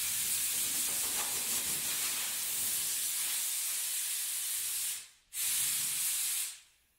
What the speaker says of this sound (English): So we're going to try to get this thing sprayed white.